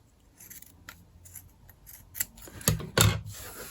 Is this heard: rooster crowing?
no